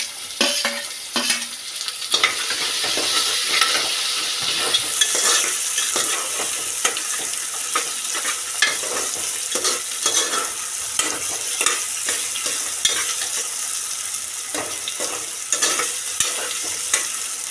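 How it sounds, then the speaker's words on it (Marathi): Tomatoes fry in a pan with a constant, loud sizzle while a utensil stirs and scrapes in quick, repeated strokes, close and with no talking. "आता त्यात टोमॅटो टाकूया आणि थोडं परतूया"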